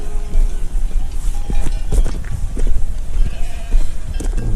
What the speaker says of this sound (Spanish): Ovejas y cabras